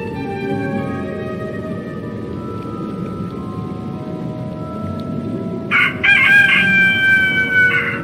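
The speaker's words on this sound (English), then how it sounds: "Frederick, take that animal wheel that I set to rooster and fly outside by the window and play that sound." A rooster crow played from an animal sound wheel in the adventure game A Vampyre Story, one loud drawn-out call rising near the end over a steady background hum.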